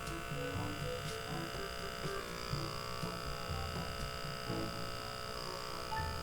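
Steady electric hum of a Dermasuction blackhead and pore vacuum tool held against facial skin, continuous and close with faint tonal buzz and slight pitch wavering, little else heard.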